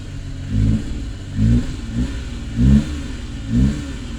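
Suzuki Carry kei truck engine warming up, with the choke needing adjustment, revving in four short, regular bursts that rise over a rough, steady idle, close and fairly loud.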